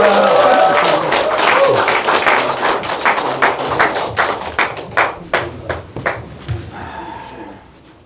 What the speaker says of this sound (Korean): 나오실 때 우리와 같은 박수 부탁드립니다